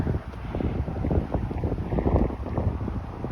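Gusty wind buffets the microphone, producing a constant low rumble and rough blustering throughout.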